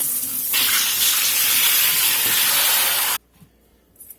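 Collard greens rinsed under a running tap: a loud, steady rush of water that cuts off abruptly, then a few faint clunks in quiet.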